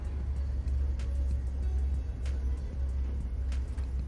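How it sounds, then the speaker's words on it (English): Inside a new Amtrak Venture coach as the train rolls to a stop near Joliet, a steady low rumble with faint rhythmic clicks and rattles, fairly loud and continuous. "Our train rolls to a stop,"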